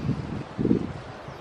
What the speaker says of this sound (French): Je sais pas si vous m'entendrez, il y a du vent.